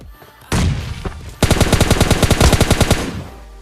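M4 rifle fire in a battle royale video game: a sharp burst, then a rapid, steady automatic stream of loud shots lasting about two seconds.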